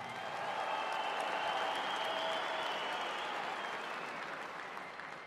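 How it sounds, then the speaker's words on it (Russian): Steady, dense applause from a large audience at a fight event after an RCC 13 MMA bout between Ivan Shtyrkov and Asylzhan Bakytzhanuly, holding loud and even throughout before easing slightly at the end. "Аплодисменты бойцам!"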